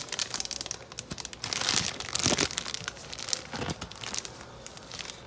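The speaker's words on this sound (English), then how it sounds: "Pull up the bag, close it up." A plastic zip-top bag holding ladyfinger batter crinkles and rustles as it is pulled up and sealed, with steady close crackling and a few louder crunchy bursts.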